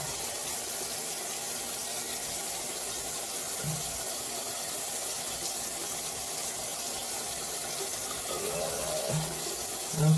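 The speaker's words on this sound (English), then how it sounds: "And then you just wash it off with pure water." Water runs steadily from a tap while someone rinses off their face, a soft continuous gush with a few small splashes near the end.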